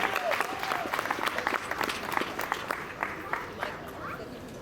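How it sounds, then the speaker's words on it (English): Scattered applause and chatter from a community crowd at a Chanukah festival in Riverside, California, thanking volunteers; fairly faint, with individual claps standing out over background voices. "A round of applause for our volunteers."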